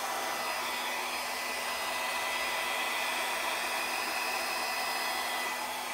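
A hair dryer blows with a steady, even rush of air that holds constant throughout, close and moderately loud, with no voices, as it spreads acrylic paint in a Dutch pour.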